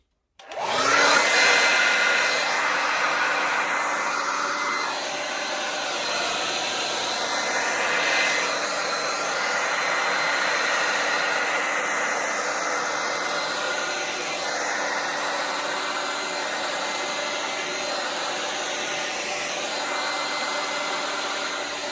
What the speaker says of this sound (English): Let's get this hair dryer going.